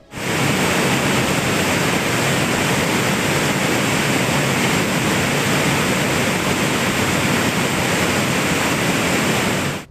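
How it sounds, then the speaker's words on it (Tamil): Manimuthar waterfall near Ambasamudram in flood, its heavy water flow making a loud, unbroken roar of rushing water for the whole stretch, with no voices. "அந்த வகையில் அம்பாசமுத்திரம் அருகே மணிமுத்தாறு அருவியில் வெள்ளப்பெருக்கு ஏற்பட்டு நீர்வரத்து அதிகரித்துள்ளது"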